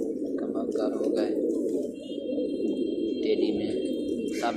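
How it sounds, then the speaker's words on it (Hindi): Shirazi pigeons coo at close range in a steady, overlapping burble, low throaty calls rolling on without pause, with a faint high tone and brief chirps drifting above. "शिराजी कबूतर हैं"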